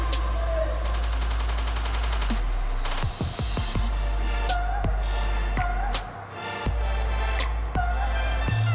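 Gunfire in the Free Fire mobile battle game comes as a fast burst of shots early on and then several sharp single reports, all over a constant loud game background hum.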